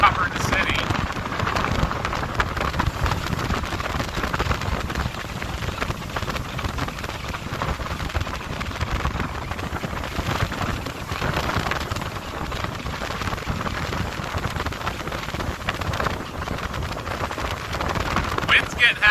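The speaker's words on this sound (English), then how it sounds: "Wind's getting heavier." Heavy wind and rain lash the microphone during a storm chase on Lake Erie, a dense continuous roar of gusts and pelting drops that stays loud and steady throughout, with voices talking underneath.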